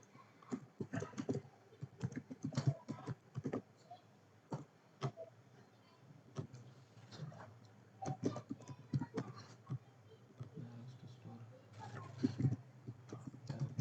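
Someone types on a computer keyboard at a desk, filling in fields in inventory software, with quiet, irregular bursts of key clicks and short pauses between runs of keystrokes.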